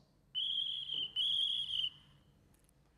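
Sound-function whistle of a model railway decoder imitating a conductor's shrill whistle on a station platform, two long loud blasts in quick succession, clear and alone against a quiet background.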